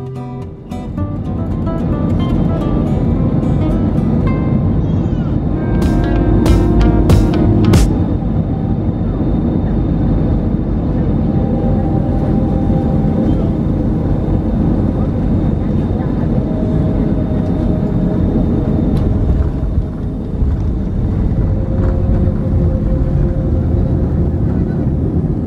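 A PAL Express passenger airplane landing in Manila, heard from inside the cabin as a steady, loud engine roar and broad rumble throughout, with a few brief chime-like tones early on and faint talk beneath.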